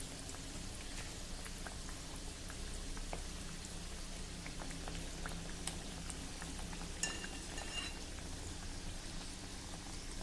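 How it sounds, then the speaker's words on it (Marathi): Shegaon kachoris deep-frying in hot oil, a steady, soft, dense bubbling and crackling sizzle with a few small pops, continuous and even throughout. "कचोऱ्या सुरुवातीला टाकल्या तेलाच्या तळाशी जातात आणि जसजशा तळल्या जातात तसतशा हळूहळू त्या वर यायला सुरुवात होते"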